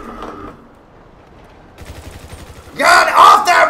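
Rapid gunfire in a GTA Online deathmatch, a sparse rattle of shots at the start that grows into a loud, dense burst near the end, mixed with players' shouting voices.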